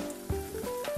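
Mung bean pancake batter sizzles and crackles steadily in a hot pan, with small popping spatters over a soft frying hiss.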